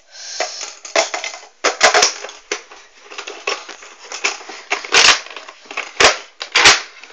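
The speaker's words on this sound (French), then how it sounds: "Donc voilà, donc il fait ça, le Nerf Retaliator." A Nerf Retaliator toy blaster being worked by hand: a close, loud series of sharp plastic clacks, snaps and rattles in uneven bursts with no talking over them.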